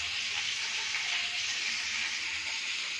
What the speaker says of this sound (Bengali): পাঁপড়টা আমি এই যে ভেজে